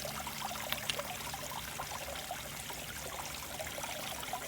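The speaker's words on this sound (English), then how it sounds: "Increase the water flow a smidge." Water pours and trickles steadily while gold-bearing gravel is processed at a boil hole, a constant close splashing flow with small sharp clinks of gravel and no voices.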